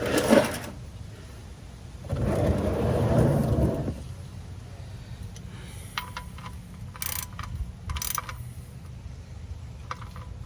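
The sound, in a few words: ratchet tightening Cadillac XT5 oil drain plug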